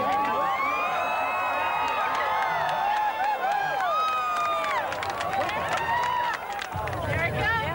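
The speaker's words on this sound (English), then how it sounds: "As Discovery reached for the sky, the crowds erupted." Spectators erupt as Space Shuttle Discovery lifts off on STS-95 in 1998, a loud crowd of many voices cheering, whooping and shouting together in a sustained roar, with a low rumble swelling in near the end.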